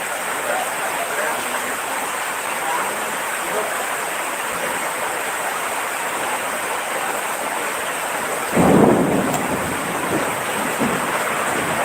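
Heavy rain falls in Bekasi, West Java, as a steady, loud wash of hiss, with a sudden heavier swell near the end before it settles back to the same roar.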